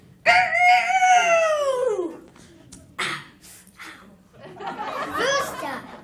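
A stage performer vocally imitates a rooster crowing, a loud rising-and-falling cry near the start, followed by further voiced sounds and talk from a musical theatre production.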